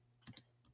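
A few quiet keystrokes on a computer keyboard, two close together and then two more after a short gap, faint and alone with no talk.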